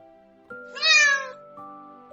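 A single cat meow, clear and drawn out, sits over soft sustained music tones in an otherwise quiet scene with no talking.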